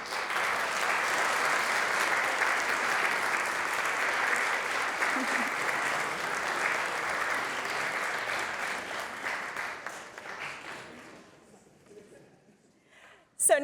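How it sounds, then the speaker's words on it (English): Sustained applause fills a hall at a Husson University New England School of Communications senior recognition ceremony, steady for about ten seconds before thinning out and fading to near silence, with a brief loud bump at the end. "give a round of applause to your friends and family who are attending today's ceremony"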